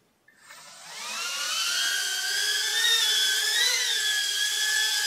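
A FrSky MQ60 micro quadcopter with upgraded motors spins up and hovers close by, its high, steady whine rising in pitch and then holding at a constant level with slight wavering.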